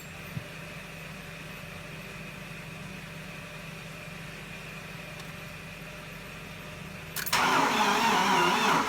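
A BMW E36 that has been swapped from automatic to manual transmission hums quietly for several seconds before a sudden burst of cranking and catching engine noise near the end, loud and close with no talk.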